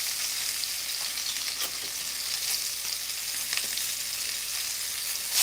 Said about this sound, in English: we just want to get a nice sear, and I'll show you what the sear looks like.